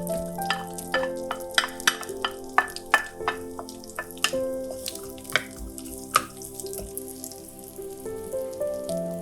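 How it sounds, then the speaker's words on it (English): Onions frying in oil in a wok, with light sizzling and a string of sharp stirring clinks and taps against the pan, close and moderately loud without any speech. "Next, we will fry the onions until they become fragrant"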